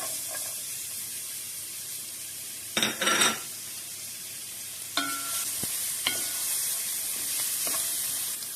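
Onions sauté in olive oil in a pan, a constant bright sizzle punctuated by a few clinks and scrapes of a utensil stirring against the metal.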